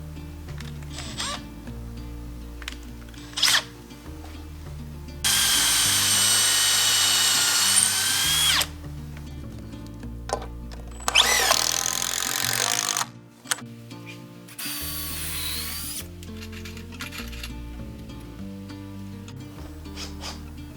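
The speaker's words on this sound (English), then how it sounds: "No matter what type of fastener you use, pre-drill your holes first." A power drill pre-drilling holes in cedar 4x4 timber whirs in several bursts, a long steady run followed by shorter ones, with quiet clicks and handling noises in between.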